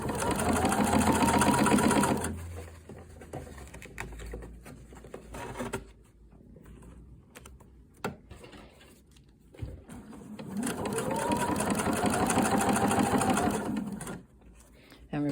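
A sewing machine stitches a fly front zipper below its metal teeth, running in a steady loud burst, pausing through a quieter stretch with faint handling noises, then running again in a second long burst.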